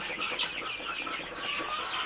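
Chickens at a poultry farm, with a steady, dense mass of clucking and chatter from many birds close by that carries on throughout without a break.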